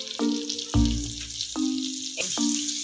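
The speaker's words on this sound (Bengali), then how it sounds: "একটু হালকা সতে করে নিচ্ছি।" Garlic, cinnamon and cardamom sautéing in butter in a pan over a medium flame, giving a steady, close sizzle throughout, layered with soft tonal background chimes that repeat at regular intervals.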